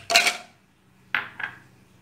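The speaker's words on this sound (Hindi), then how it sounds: "ग्लास में डालेंगे थोड़े से" Ice cubes dropped into a glass for pomegranate juice make three bright clinks close up: one longer rattling clatter, then after a pause two quick lighter clinks, with quiet between them.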